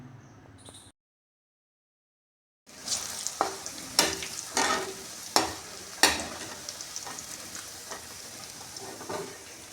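Mushrooms fry in hot oil until golden brown, giving a steady close sizzle. The sound cuts out briefly, then the sizzle returns louder with sharp clicks and scrapes of stirring.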